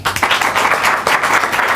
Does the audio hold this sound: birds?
no